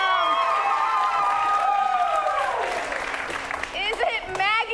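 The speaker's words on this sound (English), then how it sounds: "You're going to applaud for all of them at least a little bit" An improv comedy show audience applauds and cheers loudly. The clapping is steady at first, then thins and fades toward the end, with a few shouts and voices over the top.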